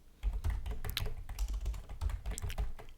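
Fast typing on a computer keyboard, close and steady, with a dense run of clacking keystrokes and a few slightly louder taps, while entering an email address in a calendar booking setup.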